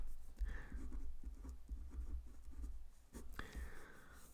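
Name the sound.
writing the answer by hand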